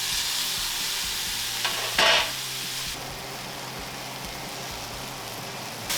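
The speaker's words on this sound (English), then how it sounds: "I'm going to sear all 4 sides." Moose meat sears in hot beef tallow in a pan with a steady, close, crackling sizzle, broken by one brief louder burst of spattering.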